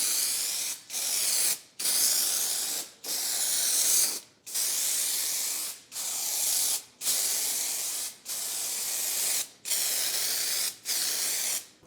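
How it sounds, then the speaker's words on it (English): Repeated bursts of dry shampoo aerosol spray hiss loudly and close, about nine spray pulses separated by brief pauses, coating a Porsche 911 part for scanning, with no speech. "I'm going to use the dry shampoo to get a nice clear image"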